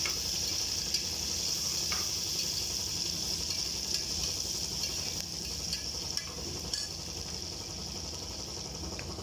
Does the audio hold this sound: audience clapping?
no